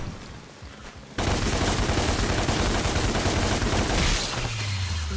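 Sustained rapid gunfire from the Devil May Cry video game, a dense continuous burst of shots starting abruptly after a quieter opening and running loud to the end, with a low tone sliding in near the close.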